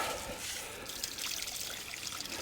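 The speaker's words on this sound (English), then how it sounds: "let's get you some water in your stainless steel bowls there" Water trickles and pours into stainless steel dog bowls outdoors under a tarp, a faint, uneven splashing dribble with brief brighter spatters, no talking.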